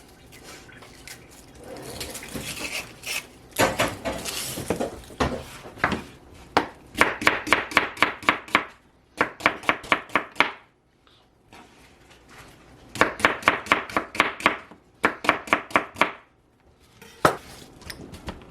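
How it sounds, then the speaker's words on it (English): A knife slices three medium sweet onions on a board, producing quick runs of sharp, rhythmic chopping taps in close bursts separated by brief pauses and handling noises. "I have 3 medium onions, and they're sweet onions. I'm going to slice them up."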